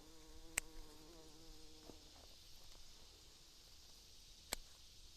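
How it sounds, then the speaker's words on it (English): A bee buzzes around gomphrena blooms in a country flower garden during harvesting, a soft, steady drone in the first couple of seconds that fades into quiet outdoor ambience, with two sharp clicks. "I'm working around a bee here, so letting him do his thing."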